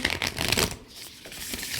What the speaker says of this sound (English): Giving it one more shuffle